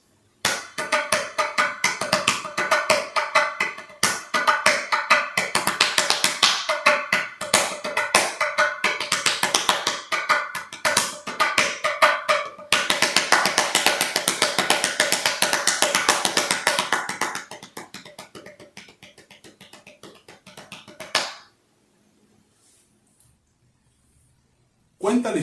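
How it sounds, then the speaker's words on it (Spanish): Wooden bench played as a percussion instrument, quick dense tapping and knocking strokes in a busy rhythm that grows louder midway, then thins out and stops near the end. "Un banco, señores. Y suena así."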